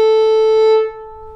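A bowed fiddle sounds a bright sustained note; the first finger is pulled off the string and the tone drops to the open string, softer, before the bow stops; no one speaks.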